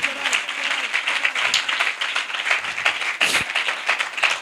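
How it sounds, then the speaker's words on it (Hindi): A Pakistani Sunday church congregation applauding loudly for Jesus, a sustained burst of many hands clapping at close range with a brief sharper spike near the end. "आइए यीशु के लिए जोरदार तालियां।"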